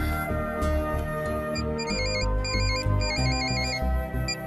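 A telephone ringtone plays over a room, repeating melodic beeping tones in short bursts, fairly loud and steady.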